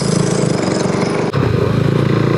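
A loud motorcycle engine revs and rumbles steadily, with a brief dip partway through as it stalls before it picks right back up, on a snowy mountain pass, Passo di Gavia.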